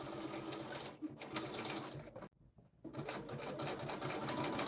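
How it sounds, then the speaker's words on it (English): Sewing machine running a long basting stitch as a quick ease line at a 5/8-inch seam allowance, a steady, close motor whir that cuts out briefly midway and then resumes. "So I have a long line basting stitch here, and I just run a really quick ease line."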